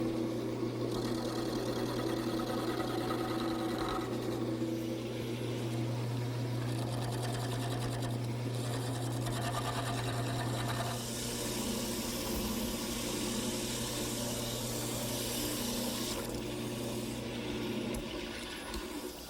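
A wood lathe spins a dowel for a quilt rack, a steady sustained motor whine with a droning hum throughout, joined midway by rougher cutting noise, close and continuous.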